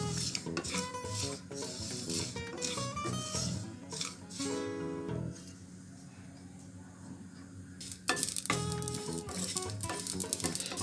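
Kalonji masala spices roasting in a pan over medium heat, with busy metal spoon-on-pan clatter and scraping from stirring over a faint sizzle, close and without talk.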